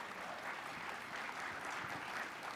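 Audience applause at the Nevada Broadcasters Association Hall of Fame gala, a steady dense wash of many hands clapping at moderate, fairly distant level with no clear breaks.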